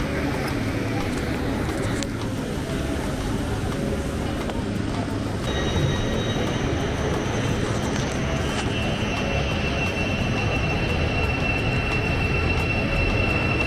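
A steady rumbling roar of an Elizabeth line underground train running through a tunnel near Farringdon, with a high whine rising partway through, heard from inside the carriage.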